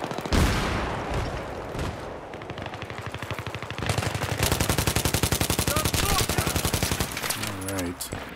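Rapid bursts of automatic gunfire in a Battlefield 3 team deathmatch on the Azadi Palace map, loud and close, with sustained firing building through the second half and brief pauses between bursts.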